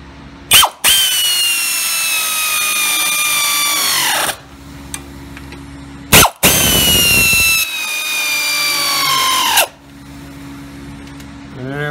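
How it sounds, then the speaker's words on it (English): An air wrench tightening the rack and pinion bolts on a Fox Body car: two long, loud, high-pitched pneumatic whirring runs, each opening with a sharp burst and winding down in pitch, with short quiet gaps between them. "Grab our air wrench."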